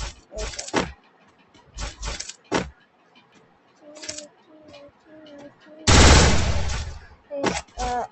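Bursts of video game gunfire crack in quick volleys while enemies are shot, with a long, dense burst of automatic fire near the end and short mechanical tones between the shots.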